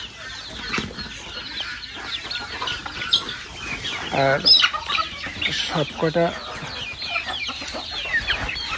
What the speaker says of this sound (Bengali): ছোট্ট ছোট্ট মুরগির বাচ্চা লয়ে বাড়াইছে এই ধরনের অনেকগুলো মুরগি, কিন্তু এরা খুব ঠুকরা টুকরি করে